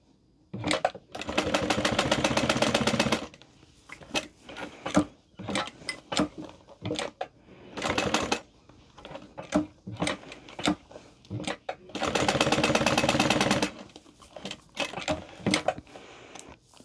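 Sewing machine stitching the long edges of a handbag, two sustained runs of rapid steady stitching with short bursts and handling clatter between them, close and fairly loud.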